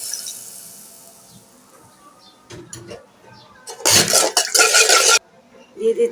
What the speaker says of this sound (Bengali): এখন অল্প করে পানি দিয়ে দিচ্ছি